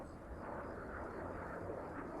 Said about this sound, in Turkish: uçak geliyor lan üstümüze